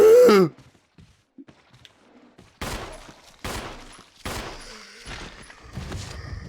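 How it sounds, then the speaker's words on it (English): Gunshots from the Resident Evil HD video game: three or four sharp, loud blasts in quick succession, each ringing out briefly, after a short voice and a quiet pause. "Then shoot him."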